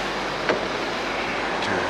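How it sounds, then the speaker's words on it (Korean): A BMW F25 X3 30d diesel, freshly repaired with a new timing chain and engine mounts, idles smoothly with a steady low hum and faint background noise, no voices over it. "지금 시동이 걸려 있는 상태예요"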